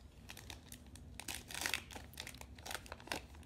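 Crinkly tearing of the wrapping on a 2019 Topps Heritage Minor League trading card box, in close, irregular bursts of crackle and rip with no talking.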